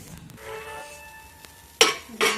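Metal pot lid clinks twice against a cooking pan on a gas flame while small fish cook with spring onion, two sharp, close clanks after a faint ringing tone, otherwise quiet.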